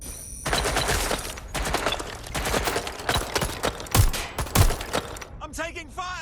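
Rapid bursts of automatic gunfire in the video game Watch Dogs: Legion, loud and repeated, with voices calling out between shots and a short electronic warble at the end.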